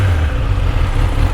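A new Kawasaki ZX10R motorcycle engine with stock exhaust, limited to 4000 RPM, runs loud and close in a steady low, throbbing drone.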